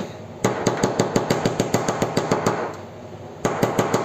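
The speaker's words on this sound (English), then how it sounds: "Just gonna give them a good sharp tap." A hard plastic bath bomb mould is rapped in quick, sharp, evenly spaced taps, two bursts of a dozen or so close clicks each, separated by a brief pause.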